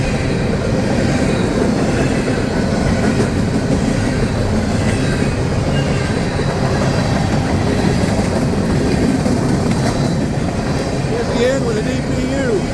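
An empty coal train with a distributed power unit rolling along a five-mile siding, a continuous loud rumble of wagons with clickety-clack of wheels and occasional squeals, close by throughout.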